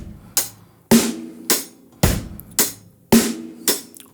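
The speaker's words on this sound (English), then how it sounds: "bass drum on the 1, snare drum on the 2, bass drum on the 3, and the snare drum on the 4, and the hi-hat is playing 8 notes" Drum kit laying down a basic rock beat, bass drum and snare alternating on the beats while the hi-hat plays eighth notes, crisp close hits in a steady moderate tempo with no voices.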